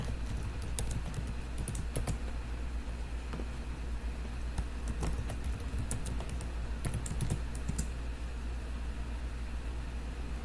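Keys clatter steadily on a computer keyboard as a password is entered during Windows Server 2019 setup, a continuous run of quick taps over a constant low hum from a nearby machine.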